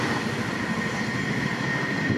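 A Thameslink train runs through New Southgate station at night, giving a steady, loud rail rumble and a sustained hum that hold evenly across the whole stretch. No one speaks.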